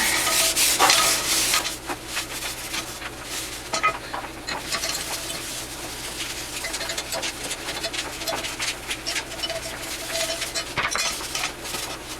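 Oil is rubbed by hand onto a new cast iron pan during seasoning, making close, continuous scratchy rubbing and light metallic scuffs that rise and fall in bursts, with no speech.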